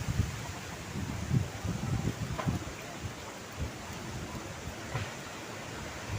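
Strong gusting wind roars as a broad, continuous rush, surging and easing, with faint rustling of trees in the background and no talking.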